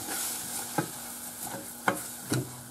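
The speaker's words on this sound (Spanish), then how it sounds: "se echa la harina y se da un par de vueltas" Flour being stirred into melted butter in a pan, a soft, low sizzle under a few distinct spoon scrapes and knocks against the pan, quiet and close.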